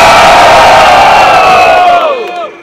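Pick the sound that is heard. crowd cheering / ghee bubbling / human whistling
crowd cheering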